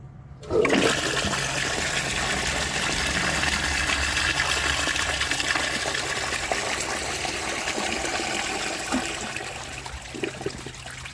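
A 1902 Fleck Bros. Victor antique toilet flushes with a loud, steady rush of water that starts abruptly and runs for about ten seconds, tapering slightly at the end, heard close up with no talking.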